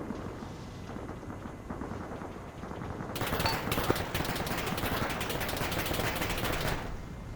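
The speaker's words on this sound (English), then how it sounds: "you got tracer fire coming in from that town east outside the box" Rapid incoming automatic gunfire and tracer rounds in the military shooter ArmA 3, a fast crackling burst of shots that swells midway and continues steadily, fairly loud against a dull background rumble.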